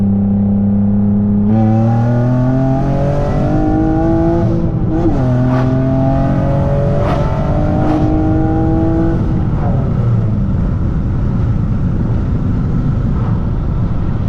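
A 6-speed manual swapped Nissan Maxima revs hard and accelerates up through the gears, its loud engine note rising and dropping at each shift, with exhaust crackles and pops before easing off.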